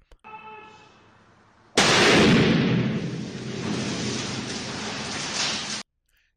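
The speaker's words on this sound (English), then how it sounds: "let's start out by playing this clip of a steel sphere being explosively hydroformed." A steel sphere explosively hydroformed: a sudden loud blast erupts after a quieter opening hum, then a sustained broadband roar and rumble that holds for about four seconds before cutting off abruptly.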